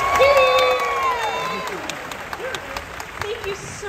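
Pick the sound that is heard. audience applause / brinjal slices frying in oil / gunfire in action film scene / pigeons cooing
audience applause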